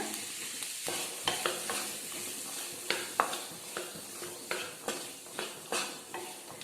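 Chickpea masala sundal is sautéed in a pan, the ingredients sizzling softly while a spoon scrapes and stirs in a regular rhythm of distinct strokes, close and moderately quiet.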